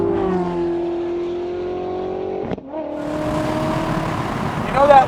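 Hypercar engine held in a high, strained tone, then a brief lift-off and a sharp rev as it downshifts, climbing again to a loud, rising finish from inside the cabin.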